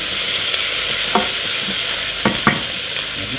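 Minced meat for lasagne frying in a pan, a dense continuous sizzle close up with a few scraping stirs and knocks of the utensil against the pan.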